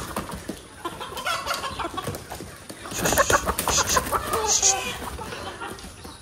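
Desi hens clucking close by in a poultry shed, short repeated calls rising over scuffling and background noise, with a person talking at times.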